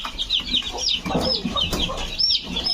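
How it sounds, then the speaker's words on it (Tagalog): Chickens cluck and chatter in a breeding pen beside a kitchen, with short repeated calls overlapping closely and continuously at close range, with no talking. "Ganda mga kamanok."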